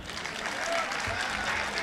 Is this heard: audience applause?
yes